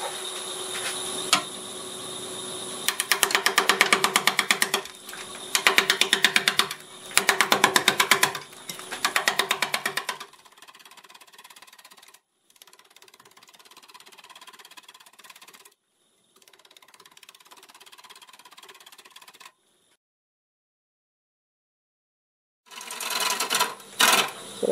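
A 5/8 bowl gouge on a wood lathe scrapes and chatters against a spinning wooden bowl in loud bursts, then a steadier, quieter cutting hiss, a pause, and louder cutting again at the end.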